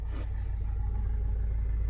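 A diesel car engine turns over and settles into a steady, low idle, deep rumble continuous throughout, close by.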